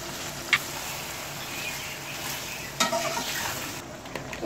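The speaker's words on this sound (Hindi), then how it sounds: "अब मैं सारी चीज़ों को मिक्स करूंगी।" Biryani ingredients with salt and garam masala being stirred in a hot pot, a steady sizzle with two sharp metallic spoon clinks and soft scraping, heard close and alone.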